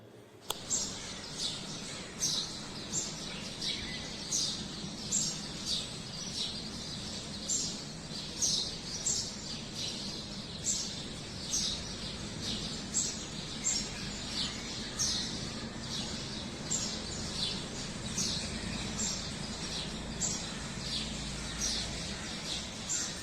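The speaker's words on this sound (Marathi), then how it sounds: "पक्ष्यांचा किलबिलाट बघा" Repeated morning bird chirps ring out in a steady rhythm over a soft continuous background hum, fairly faint and distant.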